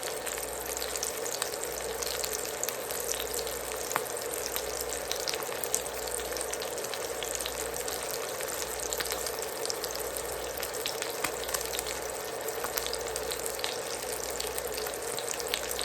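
A NY strip steak sears in a cast iron pan with a steady, hissing sizzle and crackle, with a low hum underneath, and no voices.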